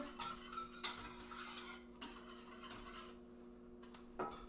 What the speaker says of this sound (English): give this a little bit of a stir